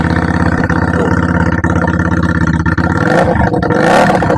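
A motorcycle fitted with a new aftermarket exhaust idles loud and close, its steady, throbbing rumble holding for several seconds and then rising briefly in a short rev near the end.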